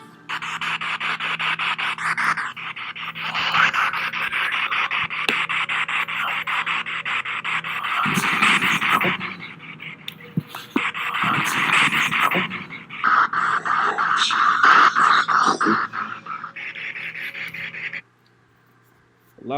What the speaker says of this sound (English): Cute little dog, Terry.